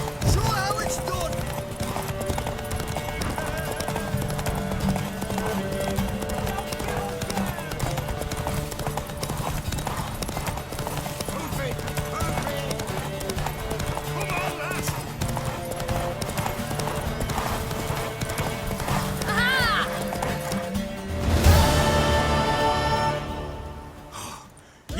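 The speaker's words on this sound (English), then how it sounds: "Worthy of the best horse. The mare is yours." A horse trots in The Witcher 3 video game, its hooves clip-clopping in a steady rhythm under game music and voices, then a loud, close neigh rings out near the end.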